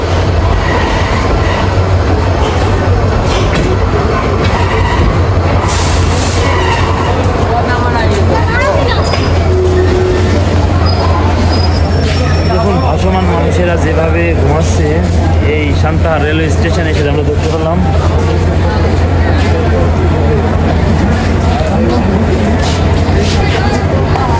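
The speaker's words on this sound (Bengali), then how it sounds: "একতা এক্সপ্রেস যাচ্ছে ঢাকা থেকে পঞ্চগড়" The Ekota Express, bound from Dhaka to Panchagarh, rolls through Santahar railway junction with a loud, continuous rumble, rhythmic wheel clatter and occasional squeals, while someone talks over it.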